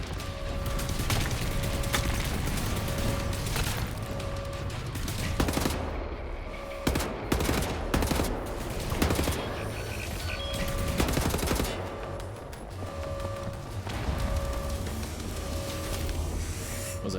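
Rapid mechanical turret gunfire rattles in Wolfenstein: The New Order, sustained bursts of clattering shots with whirring mechanisms and steady beeping tones, continuous and loud through most of the stretch.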